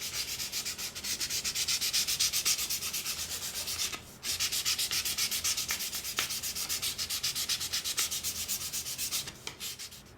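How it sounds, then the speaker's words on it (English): Fine sandpaper rubbing against the rim of a handmade wooden apple basket, with steady back-and-forth scratchy strokes close up, continuous apart from a brief pause midway and a softer stretch at the end. "So you want to work the sandpaper, sanding the outside rim and the inside rim as well."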